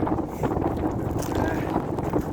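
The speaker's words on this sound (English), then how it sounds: "It's a bit blowy. Just a bit blowy." Strong wind gusting across Helvellyn mountain, a steady loud roar buffeting the microphone throughout, with no clear gaps between gusts.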